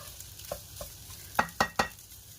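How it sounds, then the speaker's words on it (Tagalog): Fried rice (sinangag) with luncheon meat stir-fried in a pan, a soft sizzle broken by a few sharp scrapes and clacks of the utensil against the pan, the last three louder and close together. "Mga 5 minutes ko lang po siyang in-stir fry."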